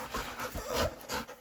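A young dog pants rapidly and faintly at close range, quick rhythmic breaths running throughout with no talking.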